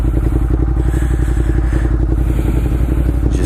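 A Ducati Monster 1200 motorcycle ridden slowly, its engine a loud, close, steady rhythmic thrum with wind rush on top, continuous and without talk.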